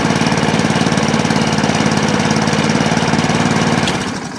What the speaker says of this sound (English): as you can hear, the lawnmower itself, although it's running pretty well, it could do just running a little bit quicker than what it actually is